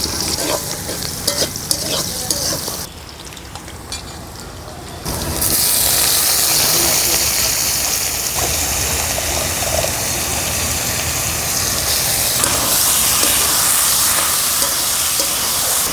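Garlic, onion and green chilies fry in oil in a wok with soft stirring at first, then a loud, steady sizzling hiss that holds to the end.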